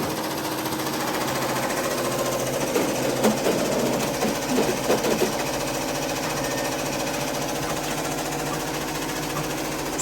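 A Brother VR embroidery machine stitching at about 800 stitches a minute, giving off a steady, dense mechanical chatter that stays loud and unbroken throughout, with a few slightly louder knocks partway through.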